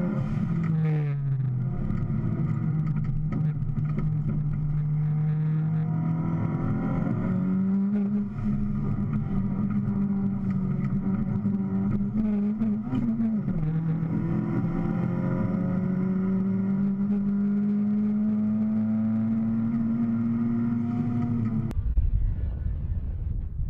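A VW Jetta race car at Pikes Peak on a practice day drives hard up the course, its engine droning loud and steady with rising and falling pitch through gear changes before dropping off near the end.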